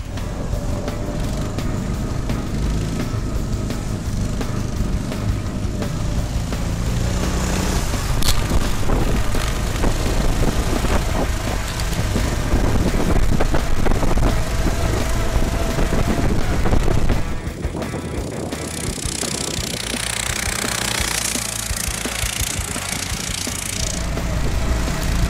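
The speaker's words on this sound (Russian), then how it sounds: "И снегоход поехал, а точнее полетел" A homemade snowmobile's small walk-behind tractor engine drones steadily at close range, rising and falling with throttle, mixed with rushing wind buffeting the microphone.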